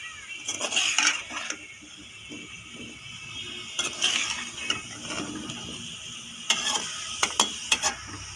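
Potato-based samosa filling is mixed in a pan with a metal spoon, giving irregular clusters of scraping, clinking strokes separated by quiet gaps, close and fairly soft.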